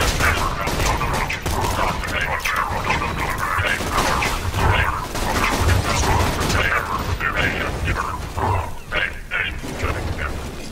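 Rapid bursts of gunfire in the video game Borderlands 2 crack and rattle continuously against robots, mixed with mechanical clatter, while someone talks throughout.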